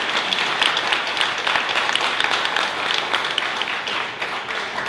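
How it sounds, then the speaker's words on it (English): A forum audience on state government and criminal justice realignment gives sustained applause, a dense and fairly even wash of many hands clapping with no voices over it. "Let's give a round of applause."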